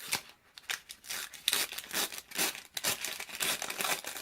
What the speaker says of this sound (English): So we peel that off.